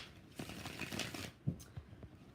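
Tarot cards being shuffled by hand: a quiet run of soft papery riffles and taps, with several distinct slaps of the deck, close up and without talk.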